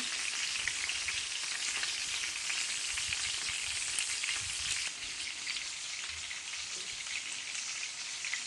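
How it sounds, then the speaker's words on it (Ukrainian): Meat patties sizzle and crackle steadily in a hot pan, a constant close-up frying hiss with no voices. "Ось вже жаряться наші котлетосики."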